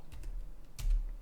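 Keys pressed on a computer keyboard, a few light clicks with one sharper tap near the end, close and alone over faint room noise.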